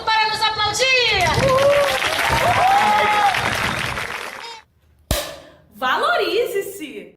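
A street theatre crowd applauds and cheers outdoors, a dense wash of clapping mixed with voices and shouts, then a sharp bang and a further burst of crowd noise.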